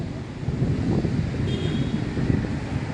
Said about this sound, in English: It is horribly windy today.